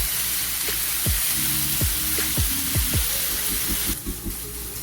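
Half a kilo of minced keema fries in a pan under a steady hissing sizzle, broken by several sharp spatula scrapes and knocks against the pan.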